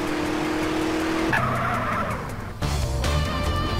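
A car in GTA San Andreas drives at speed with a steady engine drone, then its tires skid and squeal in a long screech before the engine surges again, loud and continuous with no voices.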